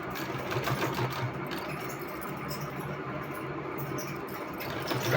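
A sewing machine stitches a turned-back cloth neckline in a continuous, fast, even run of mechanical clatter that stays close and steady throughout.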